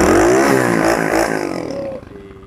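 An MXGP 50 automatic scooter fitted with a racing exhaust starts up close by and revs hard, the engine note rising briefly before dropping back to a lower idle.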